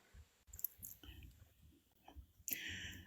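Fingers tap on a phone screen in soft, irregular clicks, faint and close, mixed with quiet whispering and a louder burst of noise toward the end.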